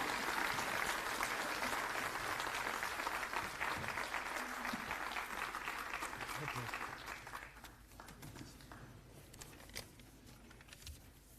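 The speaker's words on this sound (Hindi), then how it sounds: "और अब जोरदार तालियां और खड़े होकर स्वागत करेंगे हमारे प्रसिद्ध मुख्यमंत्री अरविंद केजरीवाल जी" A crowd at a gathering with newly elected MCD councillors gives loud, sustained applause welcoming Chief Minister Arvind Kejriwal, and the clapping fades after about eight seconds into quieter room sound with voices.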